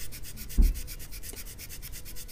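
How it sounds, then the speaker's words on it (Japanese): A guitar fingerboard being sanded by hand with 360-grit sandpaper, soft, steady rubbing strokes repeating close by, with one brief louder bump near the start, quiet and without talk. "全体をこう360番のペーパーで擦るっていう感じですね"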